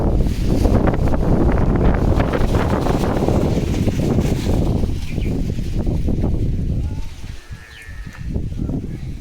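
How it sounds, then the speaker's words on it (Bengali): Strong wind blasts across the microphone in a storm with heavy rain, a loud continuous buffeting roar that eases briefly near the end before rising again. "ও মাই গড, এত বাতাস"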